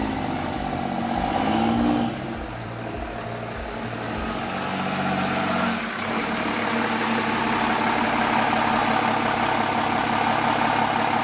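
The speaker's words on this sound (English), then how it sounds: "me turning on my scooter." A scooter engine starts up and settles into a steady mid-pitched idle, close and continuous with no talking, a brief dip in the first few seconds before the running note evens out.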